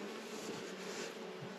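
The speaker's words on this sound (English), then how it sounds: "the bees are bringing back pollen" Honey bees buzz around an open hive as they return laden with pollen and balsam, making a steady, dense drone that sounds close and stays fairly faint, with no voices.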